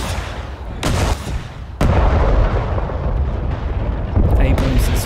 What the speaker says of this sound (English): Abrams is firing